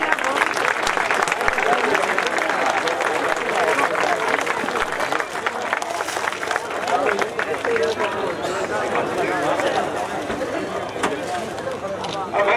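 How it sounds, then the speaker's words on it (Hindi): An audience claps steadily to welcome the chief guest at a Kaumudi festival event in Sankisa. The applause is loud and sustained throughout, with crowd murmur and talk mixed in. "आज के मुख्य अतिथि को जोरदार तालियों से स्वागत होना चाहिए"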